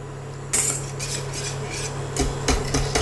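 A whisk breaks up small lumps in a fromage blanc mixture for gratinéed courgettes, giving several quick clinking, scraping strokes against the bowl in short bursts, close and clear with no talk.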